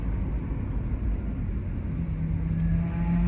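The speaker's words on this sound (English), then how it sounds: "This is your virtual test drive" A 2001 Jeep Cherokee Sport 4x4 with a 4.0L engine hums steadily as it drives along, a constant low rumble with a faint tonal whine rising near the end.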